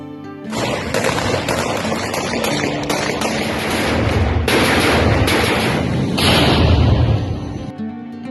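Sustained rapid gunfire and bursts of automatic fire in combat between Russian-backed heavy equipment, Chechen volunteers and DPR infantry in Ukraine, loud and continuous with dense overlapping shots and no talk.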